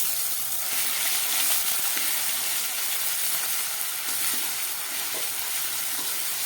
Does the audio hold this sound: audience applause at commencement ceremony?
no